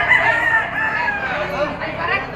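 A young Pumpkin Sweater stag rooster crows loudly and close, one long strained cock-a-doodle call filling about two seconds, its wavering pitch stretching across the whole stretch.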